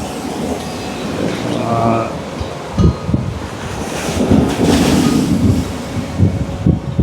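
Waves wash in and out at the shore with gusts of wind buffeting the microphone, a steady roaring rush throughout.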